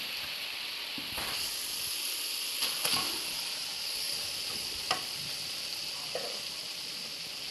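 Steady sizzling of frying with a few soft clinks and scrapes as lentils are stirred into masala in a pan; no voices.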